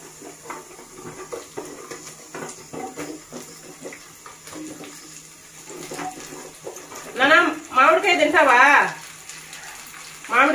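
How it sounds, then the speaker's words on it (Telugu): Sizzling sambar with drumsticks and raw mango dropped in, a soft frying hiss with a few bursts of louder crackling and stirring near the end; no one speaks. "ఇప్పుడు మనము ఈ మునక్కాయ ఈ మామిడికాయ అండి ఇవి రెండు మనము వేసేయాలి"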